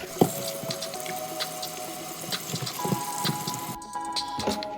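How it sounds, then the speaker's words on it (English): Russet potatoes are washed under running water in a sink, with a continuous splashing stream and scattered knocks and rubbing noises close by. "First step is to wash the potatoes well."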